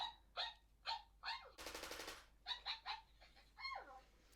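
Electronic yips and squeaky puppy-like barks from a WowWee MINTiD Dog-E robot toy dog, in quick repeated bursts with a short buzzing, rattling sound in the middle.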